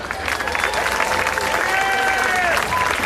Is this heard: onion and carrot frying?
no